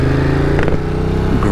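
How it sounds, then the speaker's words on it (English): A Ducati motorcycle with a stock exhaust, heard while riding on a twisting road, gives a loud, steady engine drone close up with a brief rise in revs partway through and no talk. "And now I got all the loudness in my exhaust. It's still a stock exhaust"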